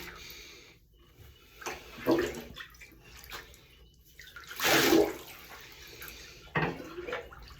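Water pours and splashes as a cat is rinsed in a bath. Uneven bursts of running water rise and fall, fairly faint, with quieter dripping between them.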